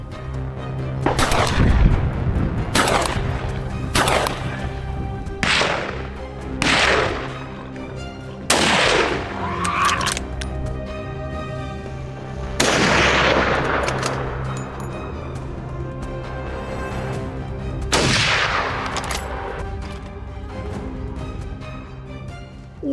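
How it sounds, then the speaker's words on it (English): .308 rifle shots fired at wild hogs on a farm, about seven loud, sharp cracks spaced a few seconds apart, each followed by a rolling echo that decays slowly, no talking. "used a .308 rifle to bring down wild hogs with precision"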